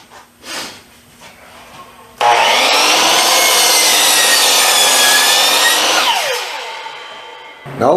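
Power saw with a freshly sharpened blade ripping through wood: loud, steady whining cut for about four seconds that fades as the blade exits, preceded by quieter knocks and handling noise.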